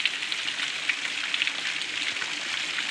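Fine, steady hiss of water spray drifting from the Parang Kikis waterfall in Tulungagung, like a light drizzle, continuous and even without a break.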